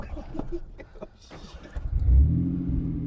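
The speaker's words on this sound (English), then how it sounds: "I'm in 4 low, front hubs are locked in, and we're just spinning tires" A truck in 4 low with locked front hubs starts from quiet rustling, then its engine revs up and holds a rising, loud drone as the tires spin, with brief talk early on.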